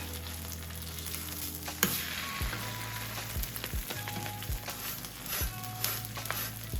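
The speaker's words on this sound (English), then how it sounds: "Yeah, you can hear it's getting nice and crispy as well." A mince-filled tortilla sizzles and crackles on a hot griddle, steady and close, with occasional scraping stir sounds, a sharp knock early on and several brief low thumps, with no talking.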